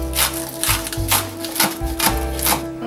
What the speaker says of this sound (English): Now I'm going to prepare my green onions and cut them into nice